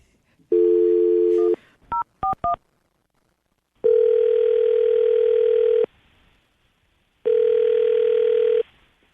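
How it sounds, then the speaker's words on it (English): Telephone dialing tones, a few quick beeps, then two long ringback tones with a gap between them, clear and close like through a handset. "We're going to call her right now, see if we can get Holly on the phone."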